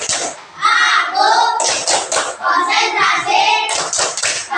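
Children in a classroom clap a rhythmic concentration pattern in short bursts, mixed with young voices chanting along, fairly close and loud.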